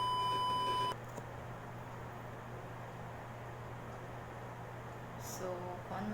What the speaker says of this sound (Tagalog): censor beep